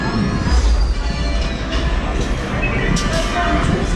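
A moving ride deck on the Rise of the Resistance attraction gives a loud, continuous rumbling and rolling drone, close and steady, with a faint higher squeal, under an announcer's voice.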